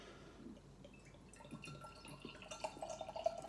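Beer pours and trickles into a glass, quiet at first then livelier with small splashes and glugs toward the end.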